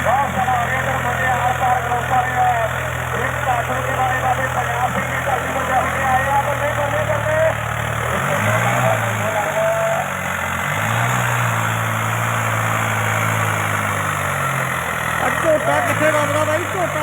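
A small Swaraj 963 tractor engine idles steadily close by at a village trolley-pulling contest, a low rumbling drone with a faint knock that stays even for the whole stretch; no one talks.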